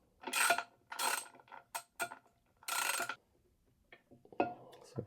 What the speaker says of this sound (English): So get your ratchet, your 11/16 socket,